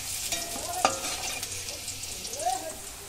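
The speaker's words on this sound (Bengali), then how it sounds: "ফুলকপিও ভাজা হয়ে গেল আমার।" Cauliflower frying in a pan for fried rice, a soft steady sizzle with a few scraping stir sounds and a sharp clink near the start, close and quiet.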